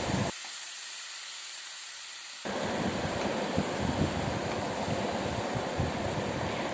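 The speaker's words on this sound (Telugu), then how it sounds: "ఆ తర్వాత మనం తయారు చేసిన పేస్ట్ అనేది ఇందులో వేసుకొని మనం కొంచెం సాల్ట్ వేసుకొని మనం లో ఫ్లేమ్లో పెట్టుకొని ఈ పచ్చివాసన పోయేంత వరకు మనం ఫ్రై చేసుకోవాలి" A spice paste fries with salt over a low flame, a steady broad sizzle that pauses briefly and then resumes, continuous and close.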